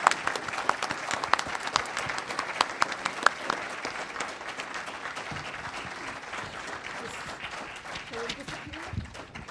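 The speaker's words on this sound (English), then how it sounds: "Can we give the panel a round of applause again?" Audience at an interfaith peace conference gives a closing panel a steady round of applause, dense clapping that starts loud and gradually thins, with faint voices underneath.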